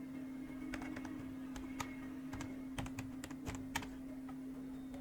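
A computer keyboard is typed on with quick, irregular key clicks over about five seconds, faint and close against a steady background hum, with no speech.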